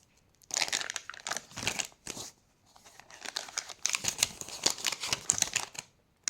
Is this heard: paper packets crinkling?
yes